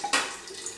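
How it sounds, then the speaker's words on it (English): Homemade crab bisque is poured from a pan into a blender, giving a short, close splash followed by a brief liquid trickle. "I'm just going to pour my ingredients into my blender"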